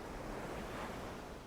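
Ocean waves washing on an island shore, a soft continuous surf hiss with low rumble and light wind noise, distant and faint, with no voices.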